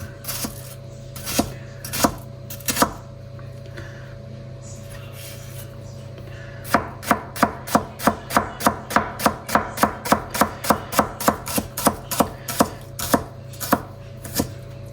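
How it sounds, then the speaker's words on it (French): Knife chopping shallots finely on a board: a few sharp cuts early on, then a steady rapid run of crisp, evenly spaced knife strikes, close and clear over a low steady hum. "On émince finement, on réserve et après on va faire la même chose avec l'ail"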